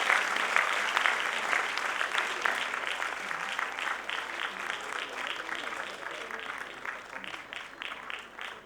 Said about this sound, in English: I think we can keep our applause going as we present flowers and tokens to each of our guests.